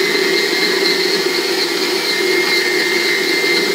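An electric stand mixer kneads dough for four to six panini, a steady loud motor whine with constant drone and no pauses, running alone throughout.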